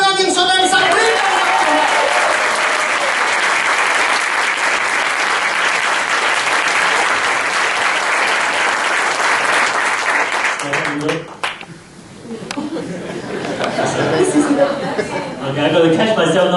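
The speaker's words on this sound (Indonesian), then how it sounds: "Kita bertepuk tangan kepada Tuhan kita, Allah yang hidup" A church congregation claps loudly and continuously during a worship service, the dense applause briefly thinning near the end before surging again, with voices and cheers mixed in.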